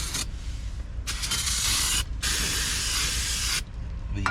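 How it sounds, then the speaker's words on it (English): Brake cleaner hisses from an aerosol can onto a Toyota Sienna rear brake part coated in machining oil, in three close, steady bursts of loud spray separated by short pauses. "So I need to douse this guy down with some brake cleaner before I put it back into position."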